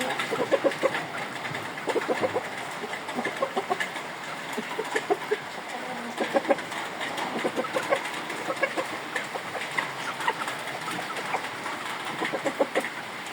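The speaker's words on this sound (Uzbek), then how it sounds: "Mana bu oq tovuqni qo'shaman Jamoliddin aka." Hens in a poultry yard cluck in short repeated bursts, several birds close by and fairly loud, the calls coming in irregular clusters over a steady background hum with no talking.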